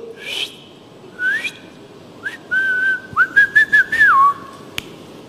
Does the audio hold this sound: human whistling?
yes